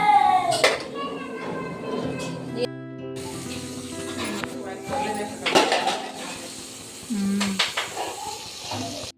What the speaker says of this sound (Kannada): ತಳ ಹಿಡಿಬಾರ್ದಂತ ಹಿಂಗೆ ಗುರಾಟ್ಕೊಂತ ಇರ್ಬೇಕಲ್ಲ